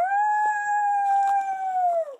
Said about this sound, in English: Coyote howls.